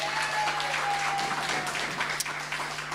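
Steady, sustained applause from a comedy club audience cheering the evening's acts, a full even wash of many hands clapping that holds for the whole stretch without speech.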